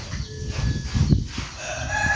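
Chickens at a rural home in the rainy season, close and fairly loud, with a rooster-like call and clucking over a muddy low background, no speech.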